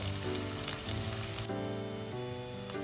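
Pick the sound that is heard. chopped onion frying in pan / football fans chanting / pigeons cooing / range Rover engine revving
chopped onion frying in pan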